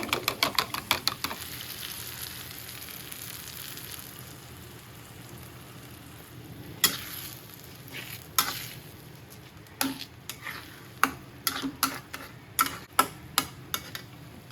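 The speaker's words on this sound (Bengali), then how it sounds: "ডিম নিচ্ছি, ডিমটাকে ফেটাবো।" Eggs are beaten in a bowl while cooking an iftar dish: a quick run of rapid, close clicking strokes, then quieter sparse taps, then a further series of irregular sharp clicks.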